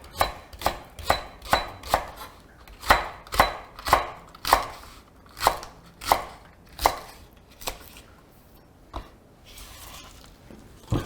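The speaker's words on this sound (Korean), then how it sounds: "we're gonna cut some vegetables and put it in." A knife chops vegetables for a soy dipping sauce on a board in a steady run of sharp thuds, loud at first and then slowing and thinning out toward the end.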